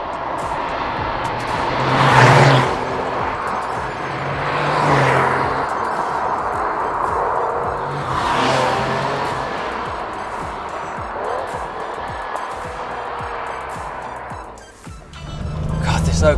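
A Porsche 993 Turbo S, the air-cooled sports car, drives along an open, empty road, its engine a steady close drone with a few swelling rises as it accelerates, running under a man's speech throughout.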